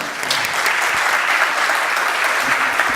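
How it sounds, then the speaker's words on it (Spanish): Strong, sustained audience applause welcoming the panel participants at an international arbitration congress. Loud, dense clapping from a crowd, steady throughout with no voices over it. "Por favor, recibimos a los participantes de esta mesa con fuertes palmas."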